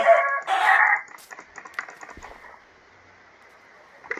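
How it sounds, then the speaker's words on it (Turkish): Short, bright clucking bursts from a video game chicken open the clip, followed by faint scattered clicks over a thin steady hum. "Bu tavuk beni delirtecek."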